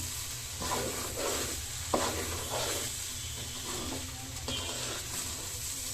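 Dried red chillies fry in oil for morog polao, a steady crackling sizzle with intermittent stirring scrapes throughout, fairly close and with no voices.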